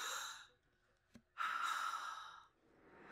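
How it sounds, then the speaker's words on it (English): Loud, close breaths from a movie trailer, a long exhale and then a sharp intake with a brief click between them, heard alone against near silence. "He's breathing kind of loud."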